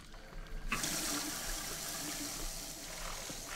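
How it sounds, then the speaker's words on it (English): A waterfall in the video game Prey (2017) rushes in after a short quiet lead-in, a steady broadband splashing wash that holds at moderate loudness. "Oh, that's a waterfall."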